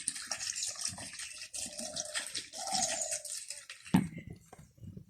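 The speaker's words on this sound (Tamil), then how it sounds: "இப்போ வந்து தண்ணி விடுவோம்" Water is poured into a pot to boil yam, a splashing, gurgling stream that varies in strength, with a sharp clunk near the end as it settles.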